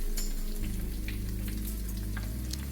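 Homemade cheese wontons frying in hot oil give off a steady, close crackling sizzle with a low hum underneath, running the whole time with no talking.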